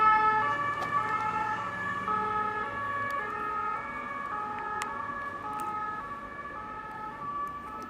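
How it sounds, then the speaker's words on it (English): Emergency vehicle sirens wail through the streets of Avignon in Provence, France: steady, layered tones that hold for the whole stretch, moderately close, with faint traffic beneath and no voices. "cue the sirens"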